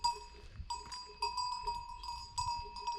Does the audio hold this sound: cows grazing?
yes